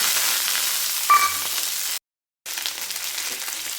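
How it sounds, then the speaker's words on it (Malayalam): Ginger, garlic, green chilli and shallots sauté with coconut pieces in a hot pan, a loud continuous sizzle broken by a brief silent gap before resuming. "എല്ലാം കൂടെ ഒന്ന് നന്നായിട്ടൊന്ന് വഴറ്റി എടുക്കണം"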